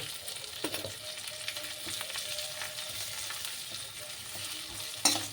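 Chili powder stirred and frying in a pan for a curry, a steady soft sizzle with light stirring scrapes throughout, close and moderately quiet, with a sharper clatter near the end.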